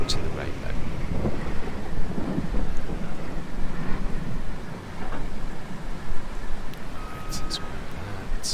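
Steady rain with rumbling thunder in the Farming Simulator 22 video game, a continuous broadband wash under low, rolling rumbles, moderately loud with no talk over it.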